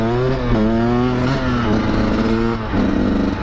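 Two-stroke motorcycle engine revs loud and close during a wheelie, its pitch climbing and dropping in steady surges with no pauses.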